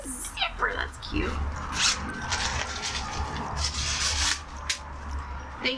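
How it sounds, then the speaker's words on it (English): A zipper rasps open with scratchy bursts, close by, while a person talks over it. "Oh, it's got a zipper."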